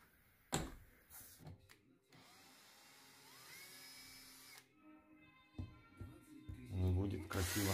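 A power drill whirs and whines as it backs screws out of a tiled roof in Germany, its pitch rising and falling in several runs with clunks between them and a voice briefly heard.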